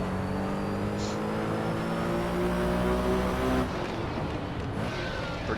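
A Porsche 917K race car engine in the Assetto Corsa racing game holds a steady droning note whose pitch climbs slowly, then drops away near the end, with no talking.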